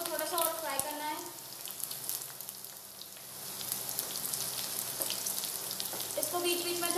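Okra (bhindi, lady finger) frying in a pan for bhindi masala, a steady crackling sizzle with brief stirring scrapes that grows louder toward the end; no talking.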